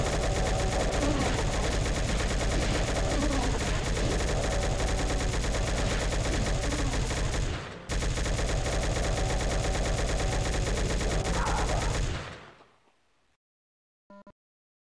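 A submachine gun fires continuously in the shooter game Doom 2, a dense, loud rapid-fire roar lasting about twelve seconds with one brief break before it cuts off into near silence.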